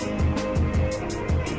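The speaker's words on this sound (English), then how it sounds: "That is Friday the 13th's jingle or melody" Friday the 13th jingle in a Dead by Daylight teaser: a rhythmic run of breathy, pulsing bursts repeating about every third of a second over a sustained tonal bed, moderately loud and steady, with no talking.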